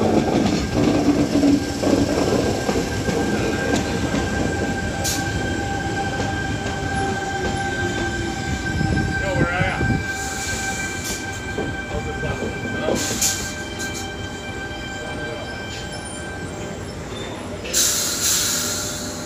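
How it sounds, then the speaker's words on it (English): A Sydney Trains service bound for Bondi Junction rolls into platform 5 at Sydenham station with a steady rumble, wheel squeal and clicking over rail joints, plus a brief station announcement partway through. "We have a Bondi Junction now arriving in the platform 5."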